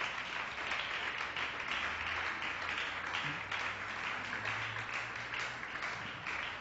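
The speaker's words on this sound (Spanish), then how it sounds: "Un aplauso al Señor," A church congregation claps for the Lord at a Spanish-language service, a moderately faint, even patter of many hands with a low hum beneath, lasting throughout.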